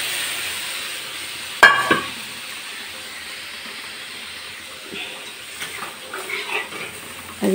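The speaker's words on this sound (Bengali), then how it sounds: "এই দেখো ডাল ফোড়ন দিয়ে দিচ্ছি" Masoor dal being tempered with onion in hot oil, a sharp sizzling burst followed by a steady hiss that fades into softer crackles and small pops, close and alone.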